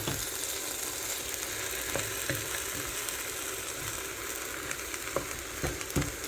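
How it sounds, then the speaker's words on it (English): Split pea soup is stirred in a pot, giving a continuous soft sizzling, bubbling texture with faint scraping ticks of the spoon, close and steady with no voices. "Now let's stir this in before we add our seasonings"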